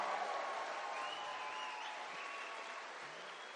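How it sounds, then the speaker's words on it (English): Sustained applause from a political rally crowd, a steady dense wash of clapping that stays loud throughout with no voices on top. "Let's give another round of applause to Tulsi Gabbard."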